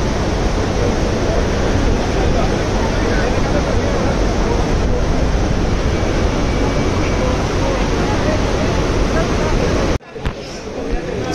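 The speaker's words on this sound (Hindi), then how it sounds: "देखो कितनी तेज हवा चल रही है।" Strong wind roars through a mountain valley gap at Manikaran, Himachal Pradesh, a loud, continuous buffeting rush that drops off abruptly near the end.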